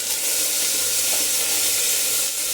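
Vegetables such as tomato and chilli hitting hot oil, giving a steady, loud, broad hiss of frying that stays close and even throughout with no talk over it.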